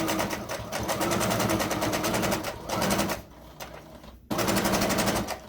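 A sewing machine runs in fast, steady bursts close to a fabric edge, pausing briefly and restarting to back-stitch, loud and near with no talking.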